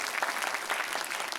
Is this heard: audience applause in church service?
yes